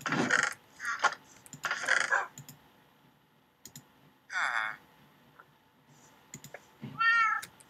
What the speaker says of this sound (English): The cat sounds depressed.